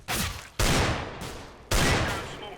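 Three loud, close gunshots in the video game CS:GO, fired at uneven intervals, each with a sharp onset and a reverberant tail, with no talk over them.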